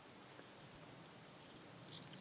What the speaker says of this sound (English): Got grasshoppers